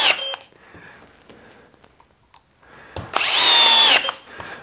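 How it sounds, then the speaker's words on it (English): A Festool T18+3 cordless drill drives screws just through the edge of a board, with a short loud whirring burst near the end after quieter handling clicks. "You just all day putting screws in."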